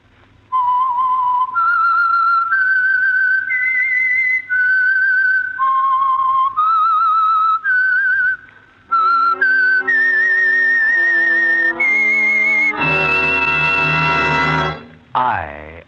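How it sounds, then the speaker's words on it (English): A lone whistler carries the signature tune of the old-time radio mystery program The Whistler, a clear, loud melody of sustained notes rising and stepping, closing with a brief burst of orchestral accompaniment. "the signal to listen for is this whistle that identifies the Signal Oil program"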